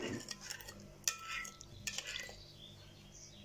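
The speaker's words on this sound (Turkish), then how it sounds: "bir paket maya, bir yemek kaşığı şeker alıyorum ve karıştırıyorum" A spoon stirs yeast and sugar together in a bowl, giving quiet, close scraping and clinking strokes with a few sharper taps against the side, in an otherwise calm kitchen with no talking.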